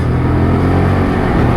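A Lexmoto LXS motorcycle accelerates hard through its gears, its engine a loud, steady, close droning roar throughout.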